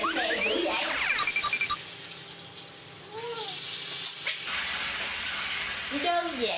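Banana pieces fry in hot oil with a steady broadband sizzle and crackle. A person talks over it and brief clinks and bubbling sounds come through.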